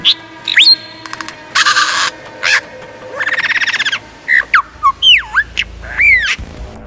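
A lyrebird mimicking other sounds in a rapid string of varied calls: whistles, sharp chirps, buzzing trills and swooping slurred notes, loud and close, each burst separated by short pauses.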